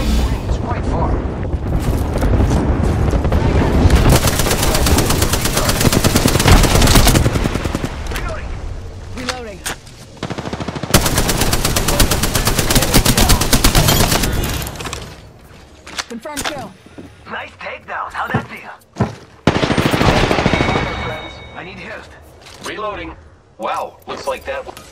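Rapid automatic gunfire rattles through a squad firefight in Apex Legends, with long loud sustained bursts, then shorter broken volleys and pops, close and punchy, and voices mixed in.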